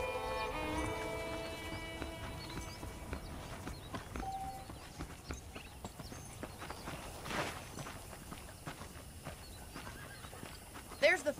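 Horses in the Red Dead Redemption video game, with hoof clip-clops, footsteps and a whinny, heard under continuous game ambience and dialogue-level voices.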